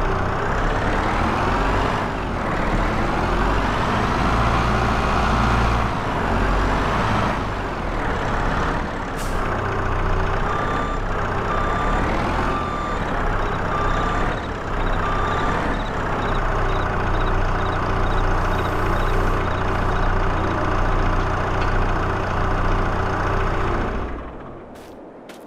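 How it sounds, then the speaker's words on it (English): A skid steer drives in Farming Simulator 22, its engine a loud continuous rumble with rising and falling revs and hissing, mechanical clunks, then fading out at the end. "Put the skid steer back."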